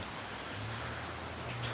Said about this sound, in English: It's really raining, as you can see, maybe.